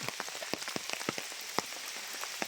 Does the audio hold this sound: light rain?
yes